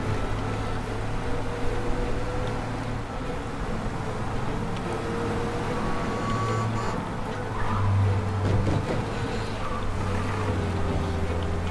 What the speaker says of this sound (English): We lose them by driving real fast and getting clear of them.